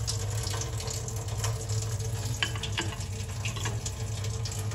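Tap water runs steadily into a sink while food is rinsed under it, a continuous close splashing wash with no talk.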